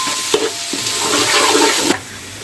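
Ginger garlic paste dropped into a generous amount of hot oil for Chinese fried rice, giving a loud, steady hiss and sizzle with a few sharp crackles, nearby and without talk.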